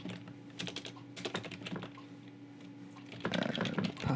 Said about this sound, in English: if I come back to register and type in some details again